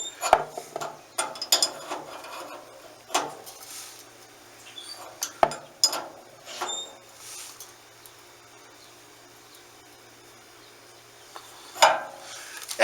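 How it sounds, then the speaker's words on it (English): A wrench works on a water heater fitting with scattered metallic clicks and clanks, some sharp and close, separated by quiet pauses. "I can still get in there with the wrench and tighten it as I need to"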